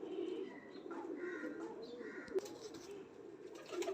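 Pigeons coo in low, repeated murmurs that run steadily throughout, with a few brighter chirps above them and one sharp click partway through; no one speaks.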